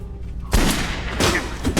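Close, loud gunshots in the survival horror video game Silent Hill: Homecoming, a couple of sharp blasts less than a second apart with a short reverberant tail.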